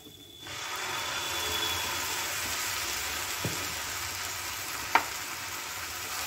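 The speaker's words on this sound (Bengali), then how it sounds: "খুব ভালো করে কষিয়ে নেব ঝিঙেটা" Ridge gourd paste and grated coconut fry in a pan with a steady, close hissing sizzle. Two brief utensil taps cut through the sizzle, and no one speaks.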